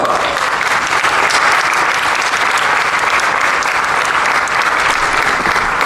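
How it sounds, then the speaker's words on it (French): A crowd at a Disneyland Paris insiders' presentation applauds pianist Stan Kramer, loud sustained clapping with a few cheers, dense and even from start to finish. "je vous demande de l'applaudir bien fort"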